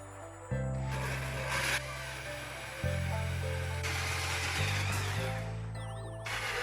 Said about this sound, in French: Je creuse le centre du pied avec une scie cloche de 100 mm.